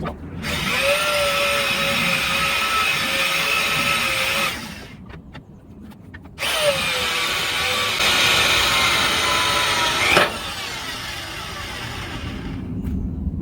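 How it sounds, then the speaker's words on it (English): A drill bores a pilot hole into oiled steel at slow speed under heavy pressure for an M35A2 fifth wheel hitch, giving a steady whining grind that stops briefly midway and then resumes, close and loud. "First pilot hole is drilled."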